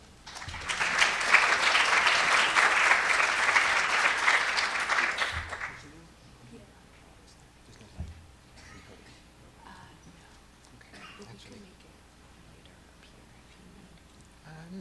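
Loud, dense audience applause fills a lecture hall for about six seconds welcoming an art critic, then cuts off abruptly into quiet room noise with a thump and faint shuffling.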